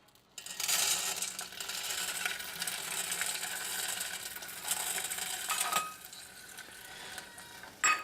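Popcorn kernels pour into a hot kettle, a dense rattling hiss with sizzling that runs for several seconds, then tapers off, close by with no talk.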